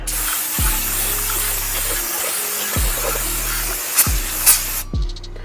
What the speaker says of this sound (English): I'm going to give this just a good solid spray